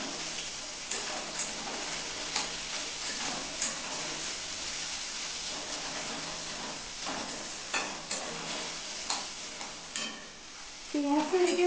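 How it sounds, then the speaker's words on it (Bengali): Onions fry in hot oil until brown, giving a continuous close sizzle with repeated scraping stirs of a spoon against the pan. "এখানে পেঁয়াজটাকে সুন্দর করে আমি ফ্রাই করে নেবো ব্রাউন করে"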